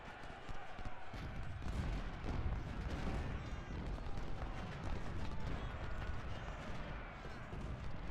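Musket volleys and artillery fire from several brigades in the Ultimate General: Civil War strategy game form a dense, continuous battle din of crackling shots and low rumbling booms at moderate distance.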